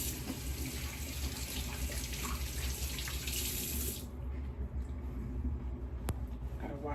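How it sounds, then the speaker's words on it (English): Hands being washed under a running bathroom tap, a steady close rush of water that cuts off abruptly partway through, leaving quiet room tone with a small knock near the end. "Gotta wash your hands first so you don't have hair stuff all over your face."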